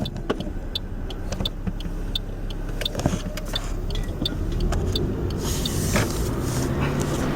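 A Toyota Prius drives downhill in brake mode, heard from inside the car as a steady road rumble with scattered small clicks and rattles, rising slightly in the later seconds, with no talking.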